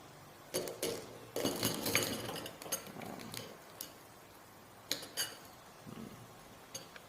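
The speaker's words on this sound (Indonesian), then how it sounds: "Ambil telur yang sudah masak, kemudian lakukan pembelahan dengan pisau" Knife work on cooked salted eggs, with sharp clinks and taps of a blade against a plate or board in irregular bursts, fairly close and moderately quiet, without talk.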